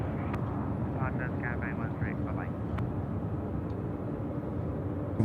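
A Cathay Pacific airliner at Sydney Airport at night, its jet engines a steady, broad roar that holds at one level throughout while people talk nearby.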